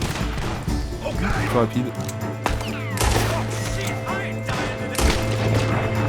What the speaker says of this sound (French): Oh, ça tire dans tous les sens.